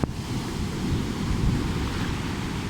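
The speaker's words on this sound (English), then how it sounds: "imagine getting tossed around by the waves on these rocks" Pacific Ocean waves crash onto rocks in a loud, continuous, wind-buffeted roar of surging water that fills the clip without pause. No one is talking.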